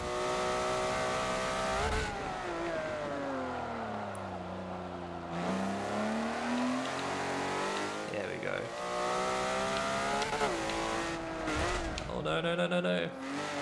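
A Ferrari 512 TR in Forza Motorsport 7 revs and shifts through gears, its engine pitch sweeping up and down with brief tire squeal, loud and continuous, while a voice talks over it.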